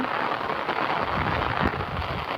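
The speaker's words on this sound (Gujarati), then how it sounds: "વરસાદ કેવો આવે" Steady, dense rain hisses without a break, a constant wash of sound with no voices.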